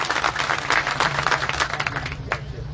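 A crowd at an outdoor farmers' protest rally applauds from the camp before the stage, a steady dense patter of clapping that holds for a few seconds and then thins out.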